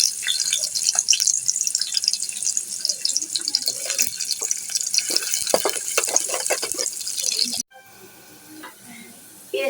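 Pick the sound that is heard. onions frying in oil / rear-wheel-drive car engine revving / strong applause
onions frying in oil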